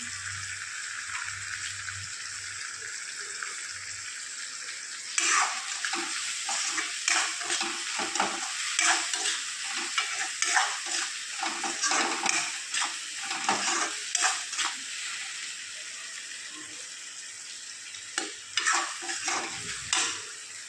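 Soybean curry stirred in a pan over low gas, a quiet sizzle at first, then a long run of rhythmic spoon scrapes and clacks against the pan over the continuous frying hiss, no talking.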